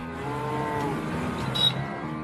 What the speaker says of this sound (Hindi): भैंस